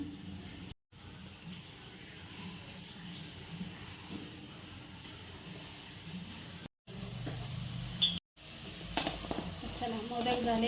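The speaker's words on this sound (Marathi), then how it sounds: "चला इथं तेल ठेवलं मी कढईत बघा असे बनवून घेतले कसे वाटले सांगा कळ्या छान पडल्या भरपूर पडल्या चला आता तळून घेऊ" Rice flour modaks frying in oil in a kadai, a steady low bubbling sizzle that runs throughout, broken by brief gaps and a few light metallic clinks of utensils near the end.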